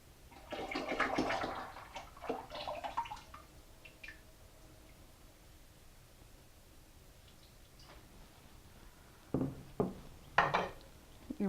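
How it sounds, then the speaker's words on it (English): Water being poured and combined with sugar and tea in a container to make kombucha, with splashing, gurgling and dripping bursts near the start and again toward the end, quieter in between. "The next step is to combine the water with the sugar and tea."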